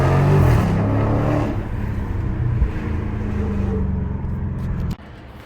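A Dodge Charger Scat Pack Widebody drives along with a steady, loud low engine drone and road noise heard from inside, easing slightly before cutting off abruptly near the end.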